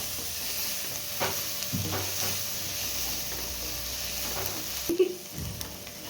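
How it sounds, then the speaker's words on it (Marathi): Onion, garlic, ginger and green chili fry in a pan for palak paneer, giving a low steady sizzle with soft stirring scrapes and a brief clatter near the end. "लसूण घालून घ्यायचं आहे अद्रक आणि हिरवी मिरची तिन्ही याच्यामध्ये टाकायचं आहे व्यवस्थित भाजून घ्यायचं याला"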